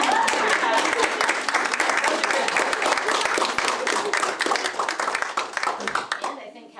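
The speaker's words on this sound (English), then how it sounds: "Can we clap?" An audience at a school district board meeting breaks into dense clapping that holds strong, then thins out and fades to near silence at the end; a few voices murmur under the claps.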